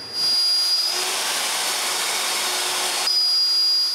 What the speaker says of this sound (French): Avec les deux côtés en serre et une fraise de 7 mm, je coupe les trous pour le bas.